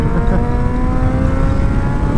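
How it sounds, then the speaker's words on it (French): A Yamaha Fazer motorcycle accelerating on a road, its engine a steady, loud drone with a rising tone, heard close up from the rider's position with wind noise throughout. "ça accélère bien une Phaser"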